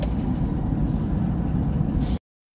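A car drives steadily along a road toward Lenger in southern Kazakhstan, its engine and tyre rumble loud and continuous for about two seconds before cutting off abruptly.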